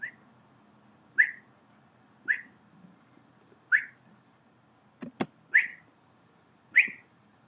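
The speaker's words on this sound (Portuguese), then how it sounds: "você pode falar ou assobiar ou assoprar no microfone também, que ele vai atirar" A person whistles into a microphone to make a Scratch game character shoot: about seven short, sharp rising whistles spaced roughly a second apart, with a couple of quick breathy puffs near the end, close and clear against quiet.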